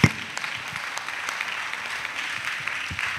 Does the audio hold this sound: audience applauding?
yes